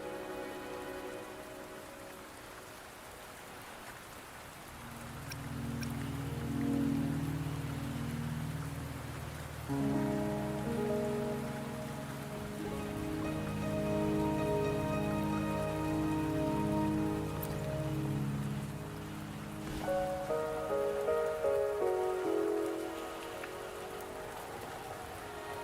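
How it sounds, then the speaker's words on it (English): Steady rain pours down in the video game Wuthering Waves, a broad continuous hiss that runs throughout, with soft musical tones rising over it at times and no voices. "Don't worry, the rain won't last much longer."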